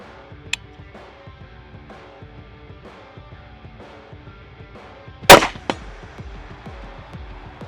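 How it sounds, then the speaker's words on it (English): A single sharp, loud gunshot from a .22 ARC Curtis Customs rifle pistol fitted with an SB Tactical brace cracks once, followed by a brief echo, with no talk. "let's load the first round of this 22 ARC Curtis Customs rifle pistol."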